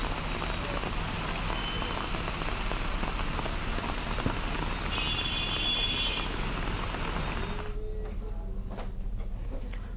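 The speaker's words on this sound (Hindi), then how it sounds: "झमाझम बारिश होने से मौसम खुशनुमा हो गया" Heavy monsoon rain pours down in a dense, even hiss of drops striking surfaces, unbroken and fairly loud, easing toward the end.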